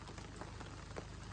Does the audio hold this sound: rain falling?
yes